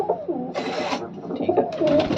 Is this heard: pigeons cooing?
yes